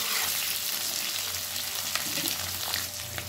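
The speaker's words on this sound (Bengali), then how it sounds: "এবার গ্যাসের ফ্লেমটাকে একটু বাড়িয়ে আলুটাকে হালকা করে ফ্রাই করে নেব।" Boiled potatoes fry lightly in a pan over a raised gas flame, giving a continuous, even hiss of sizzling oil at moderate level with a few faint ticks and stirring sounds.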